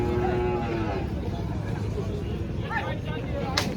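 A bull calls amid the crowded bustle of a cattle market in Pathardi, with a steady din of voices and livestock around it throughout.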